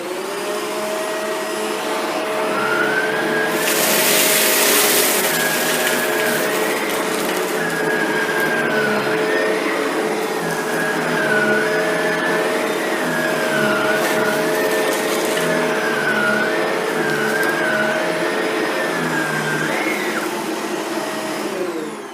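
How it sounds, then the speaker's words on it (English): A Shark Rotator NV752 vacuum cleaner runs loudly and steadily on carpet for a long stretch, its motor whine wavering as it moves back and forth, with occasional rattling noises picking up seeds and lentils. "Now we'll run this on carpet and pick up as much as we can."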